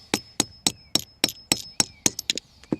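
A hammer strikes a copper bullion coin being shaped into a ring on a bolt, ringing metallic blows in a steady rhythm, about eleven sharp close hits, speeding up toward the end.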